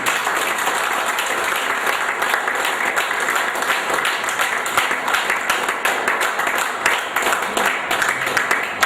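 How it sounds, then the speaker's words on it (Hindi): A large audience at a gathering in Allahabad claps hard and steadily, a loud, dense roar of many hands sustained evenly from start to finish without speech over it. "एक बार जम के ताली बजाई।"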